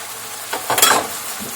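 Vinegar and garlic hit hot oil in a tempering for Egyptian ful medames, giving a brief, sharp hissing sizzle that swells and fades within about half a second, up close.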